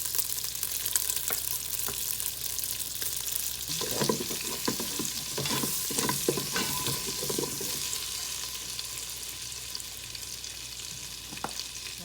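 Butter and cheese melting in a hot pan for Southern macaroni and cheese, a steady close sizzle with bursts of stirring and scraping in the middle, no talk.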